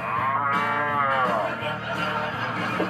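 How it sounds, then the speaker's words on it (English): A new ambulance siren whose tone resembles a cow mooing, a loud, sustained wavering horn-like call with rich harmonics that runs steadily through the whole short stretch, alone with no voices. "the new ambulance siren sounded too much like a cow mooing"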